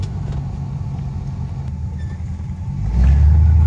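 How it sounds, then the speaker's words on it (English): A 1964 Buick Riviera's engine rumbles steadily from inside the car, then swells louder as it accelerates near the end, a deep continuous drone with no talking. "Let's get some acceleration going on and see what happens."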